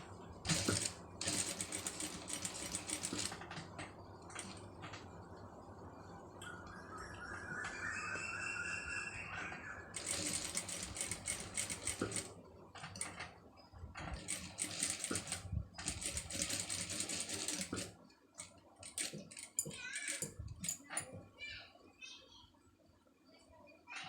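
Sewing machine stitching a scallop design on blouse canvas, with bursts of fast rattling machine noise broken by quieter stretches of clicks and handling, fairly close.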